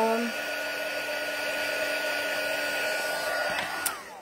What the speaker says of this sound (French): Et non, je suis pas en train de me sécher les cheveux. Je suis en train d'embosser.